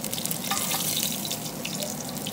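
Veal browning in a hot pan makes a steady, loud, close sizzle with constant crackle and spatter throughout, with no voices.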